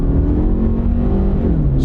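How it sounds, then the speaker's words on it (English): SUV accelerating on a quiet road, heard from inside as a steady, smooth engine drone with a rising then slightly falling pitch, close and loud with no talking. "when you step on the gas, it takes off, and it takes off very smoothly too"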